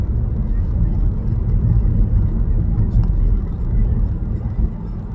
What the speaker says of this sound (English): why is there so much traffic on this hill?